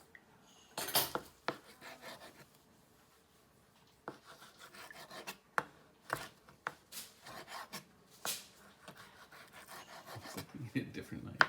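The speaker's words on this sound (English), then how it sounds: "I'm going to start working on cutting the sausage." A kitchen knife slices through sausage on a board in quiet, irregular close scrapes and taps with soft thuds between cuts, and faint breathing is audible.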